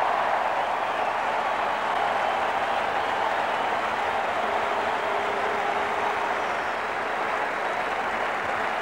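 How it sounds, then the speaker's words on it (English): Steady, dense applause and cheering from a large cricket stadium crowd at a 1987 one-day match in Australia, greeting Dean Jones' century; the roar holds evenly and loud throughout with no talk over it. "Great ovation here from the crowd"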